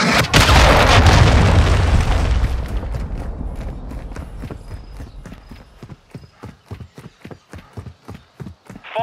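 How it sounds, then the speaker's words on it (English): A cruise missile explosion in Call of Duty Modern Warfare lands as a loud, deep booming blast that rumbles and fades over a couple of seconds, followed by a rapid series of sharp rhythmic thuds. "Hostile cruise missile incoming."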